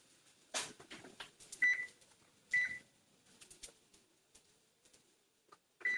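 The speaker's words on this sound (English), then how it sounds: "So I'm gonna go ahead and set the alarm for 30 minutes." A kitchen timer is set for 30 minutes while cooking ribs, giving a few short, quiet electronic beeps spread among soft handling clicks and taps.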